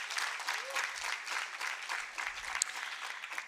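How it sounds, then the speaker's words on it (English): Audience applause fills a conference hall at a research gathering on gender-based violence in higher education, steady clapping from a crowd continuing throughout at moderate level. "Can we please give her another round of applause?"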